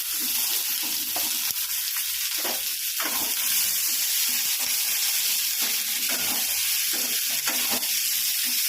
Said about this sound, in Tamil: இஞ்சி புட்டு போட்டேன்னா இந்த வெங்காயம் போடுறேன்